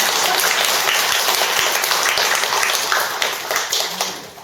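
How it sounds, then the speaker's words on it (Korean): An audience claps together in a Buddhist lecture hall, a dense burst of applause that holds steady and then tapers off toward the end, loud and close, with no speech over it. "그래서 박수도 한번 치는 거예요."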